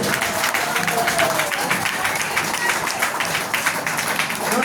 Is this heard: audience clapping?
yes